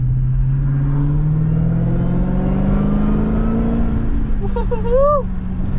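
A car fitted with an aftermarket exhaust drones loudly in a rising and falling tone as it accelerates, heard from inside, with a brief chirp near the end.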